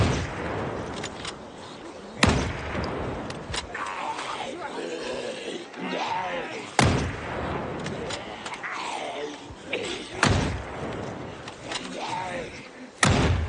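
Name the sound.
zombie smacking a fence, from the video game Project Zomboid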